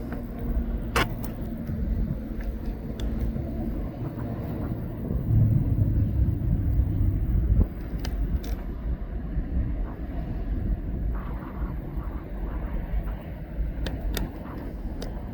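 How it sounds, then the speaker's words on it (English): Aircraft turning on the ground at East Midlands Airport, a steady low engine rumble heard from a distance with a brief swell in the middle, plus a few faint clicks and distant background noise. "This aircraft now is going to turn."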